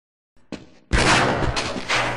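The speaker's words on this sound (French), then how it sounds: "J'entends des coups de feu." Sharp gunfire in a video game, with a few faint clicks and a small pop, then a heavy sustained burst of loud shots and rumbling that continues to the end.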